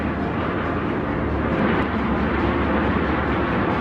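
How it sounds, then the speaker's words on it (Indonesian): Massed Allied aircraft of the Second World War flying over the Netherlands during a huge airborne operation, producing a dense, continuous engine drone that fills the scene steadily and loudly. "ratusan pesawat sekutu sudah mulai terlihat di langit Belanda"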